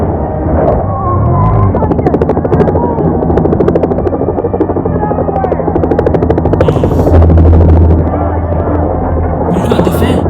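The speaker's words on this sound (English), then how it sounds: "The helicopter. So close." Loud, rapid thumping of helicopter rotor blades very close by in the 1997 film Tomorrow Never Dies, a dense steady chop with engine whine, and voices briefly heard under it.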